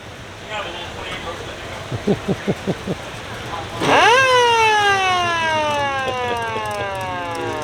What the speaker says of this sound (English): Got a little bit of a siren going there.